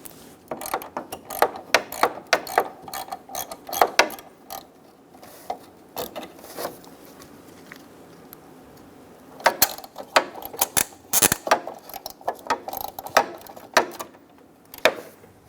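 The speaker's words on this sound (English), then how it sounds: "To remove the side marker light, we're going to remove the 2 13mm nuts inside of there." Ratchet wrench turning out the two 13mm nuts that hold a side marker light on a 1988-1999 GMC K1500 pickup, giving bursts of quick close clicks with pauses between runs.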